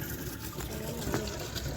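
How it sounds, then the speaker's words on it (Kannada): Water flowing steadily outdoors during a light rain, a continuous broadband rushing wash at moderate level that holds even throughout, with no voices over it. "ಇಲ್ಲಿ ಗಾಯ್ಸ್ ನೀರು."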